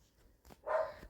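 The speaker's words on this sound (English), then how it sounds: "My dog's barking downstairs." A dog barking downstairs in a house, one muffled, distant bark after a soft thump, heard faintly through the floor with no talk over it.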